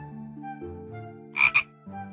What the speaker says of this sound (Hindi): पूल के नजदीक एक मेंढक था।